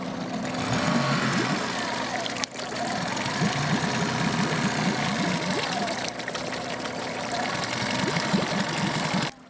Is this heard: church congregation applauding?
no